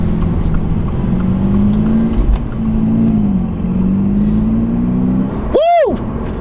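A brand-new 2022 Subaru BRZ Sport-Tech with a manual gearbox pulls away, its engine droning steadily up close under a person talking, before a quick rising whoosh near the end.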